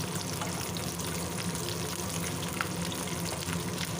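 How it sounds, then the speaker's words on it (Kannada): Curry leaves, dry chillies and cashews fry in hot ghee in a pan, with a steady close sizzle and faint pops running without a break and no talking. "ಇದನ್ನು ಚೆನ್ನಾಗಿ ಫ್ರೈ ಮಾಡ್ಕೋಬೇಕು"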